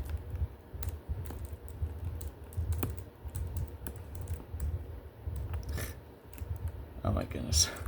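Someone types on a computer keyboard while playing Jeopardy! on the Sega Genesis, with irregular quick clicks and clacks over a low background hum and muffled murmuring.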